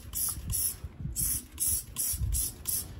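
A handheld spray bottle mists bleach onto an old yellowed fabric lampshade in seven quick, evenly spaced hissing bursts, close and crisp, with short quiet gaps between squeezes.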